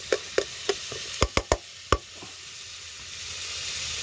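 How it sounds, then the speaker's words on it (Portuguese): Garlic and onion sautéing in a little oil over a wood fire, a steady close sizzle punctuated by several sharp knocks and clacks of a utensil against the pan. "Tem para refogar aqui na lenha o alho e a cebola, um pouquinho de óleo"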